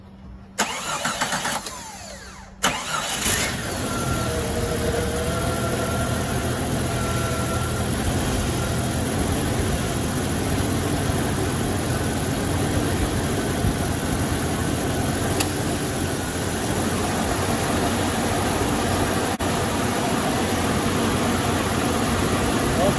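A 1993 Jeep Cherokee XJ engine cranks and catches, then settles into a steady, close idle with the AC compressor running after an R-134 conversion, a continuous even hum and whir through to the end.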